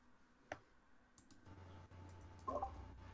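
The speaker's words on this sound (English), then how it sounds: "He is typing." Faint clicks of typing on a computer keyboard come in a few sparse taps over a quiet, murmuring room background.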